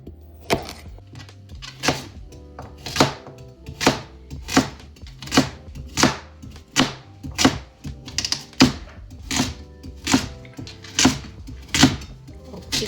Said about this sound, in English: We'll start chopping again.